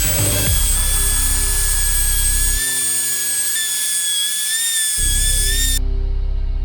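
A grinder scours fifteen years of dust off a car brake servo, giving a loud, steady, high-pitched whine with a drone beneath it that drops away briefly and then returns.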